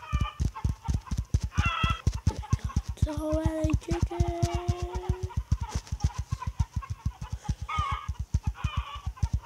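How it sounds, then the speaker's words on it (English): Chickens in the video game Egg Inc, a fast regular run of clucks and footstep-like pulses with occasional higher squawks layered over, steady and close with no talk. "So many chickens."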